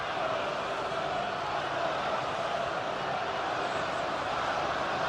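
A home crowd at a women's football match between Arsenal and Wolfsburg produces a steady, distant wash of stadium noise, a broad even murmur of cheering with no distinct peaks.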